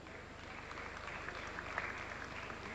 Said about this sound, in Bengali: আরেকটু জোরে করতালি, আরেকটু জোরে হলে ভালো লাগবে সবার।